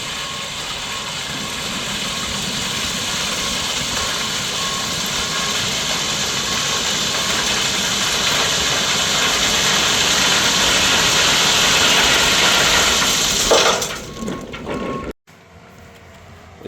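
Steady diesel rumble of heavy machinery spreading crushed rock along a ditch, droning loud and unbroken for most of the stretch before dropping away abruptly near the end.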